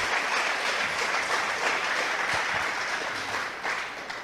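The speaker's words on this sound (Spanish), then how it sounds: "Dale una fuerte aplauso al Señor." A church congregation applauds during a sermon, with strong, sustained crowd clapping that eases a little at the end.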